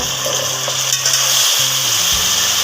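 Sizzling and crackling of potatoes frying in a hot pan after garlic, ginger and crushed chillies, with a steady broadband hiss and a low hum throughout, close and loud with no talking.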